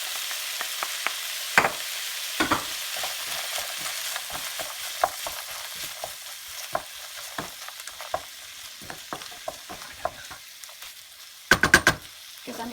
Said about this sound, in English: Now I'm gonna put vegetables.